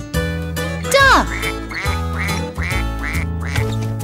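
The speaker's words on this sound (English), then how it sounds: "Duck!" A duck quacks several times in a quick series over cheerful music, each quack short and nasal.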